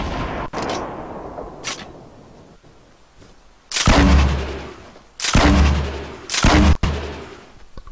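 Grenade explosions in the Fortnite Battle Royale video game: three loud, booming blasts a second or so apart, each with a short rumbling tail, plus fainter gunshot pops before them.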